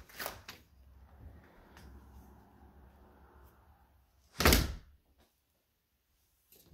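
A repaired interior door that once dragged and would not shut properly swings open and closes, giving a soft rustle and then a single loud, close latching thunk, followed by quiet.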